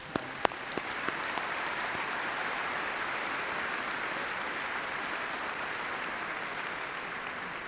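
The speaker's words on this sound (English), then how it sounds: "So let's give them one more round of applause." A large audience at a university commencement ceremony applauds in a broad, sustained roar of clapping, with a few sharp close claps at the start and a steady, even wash of distant hands afterward.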